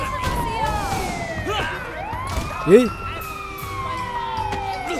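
Police car siren in the video game Sleeping Dogs, wailing and sweeping in pitch at moderate distance while someone speaks briefly over the game's driving sounds.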